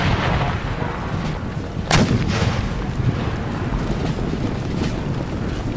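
Cannon fire in Empire: Total War booms out, with a sharp, heavy blast near the two-second mark over a dense, rumbling roar of battle and wind-like noise.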